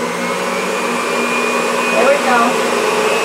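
A Black + Decker juicer runs steadily while making carrot juice, giving a loud, close motor whine with a constant hum and faint pitch shifts near the end. A voice speaks briefly over it.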